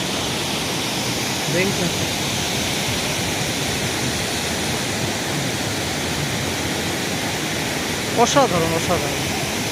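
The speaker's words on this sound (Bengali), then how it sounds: "এখন আমরা আছি জোনা ফলসে" Jonha Falls in Jharkhand pours with a continuous, dense rushing roar of falling water, close and steady throughout, while someone briefly speaks over it.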